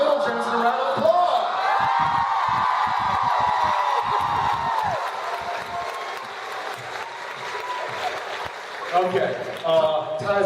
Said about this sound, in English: Give little Jensen a round of applause.